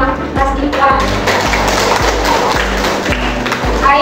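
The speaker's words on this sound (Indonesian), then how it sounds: "tepuk tangan untuk Mas Ikhwan" A room full of people claps steadily for Mas Ikhwan in a classroom coaching session, a dense, loud patter of many hands with rhythmic thumps running through it.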